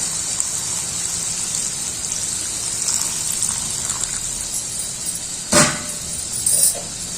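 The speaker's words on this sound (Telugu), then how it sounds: "ఇప్పుడు ఒక గ్లాస్ వాటర్ అయితే పోసుకోవాలండి" A glass of water pours steadily into a pot of dry fish curry with a continuous splashing hiss, and a glass clinks briefly near the end.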